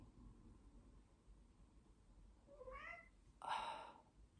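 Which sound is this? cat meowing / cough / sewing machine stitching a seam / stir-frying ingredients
cat meowing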